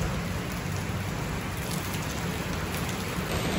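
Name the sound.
heavy rain falling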